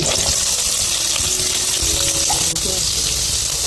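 Chopped onion hitting hot oil in a pan while cooking dry village-style chicken, a steady loud sizzle and hiss throughout with a voice faintly underneath.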